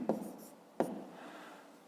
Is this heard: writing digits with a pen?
yes